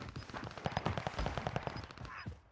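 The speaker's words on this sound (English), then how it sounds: "Gunshots at my level." Gunfire rings out in a solo shooter video game match, a rapid string of sharp reports with several shots close together, moderately loud and mostly alone.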